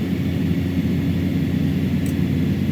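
Cessna Caravan turboprop engine at idle on approach with full flaps in Microsoft Flight Simulator 2020, a steady droning hum with a constant low rumble and hiss throughout, no voices.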